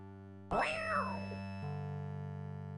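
A cat in the King's Quest video game gives one bending, wavering meow over a steady synthesized game tune, with the music shifting afterward.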